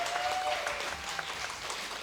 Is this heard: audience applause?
yes